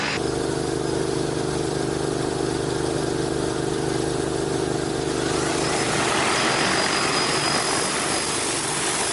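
An agricultural drone spreading fertilizer over a rice field near Çorum, its loud, steady rotor whine and buzz running throughout and growing brighter and harsher in the second half.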